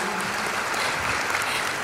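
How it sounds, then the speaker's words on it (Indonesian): An audience claps steadily at a seminar with Deddy Corbuzier, a dense, sustained round of applause filling the room at close range with no voices over it. "Oke, berikan tepuk tangan lagi dong."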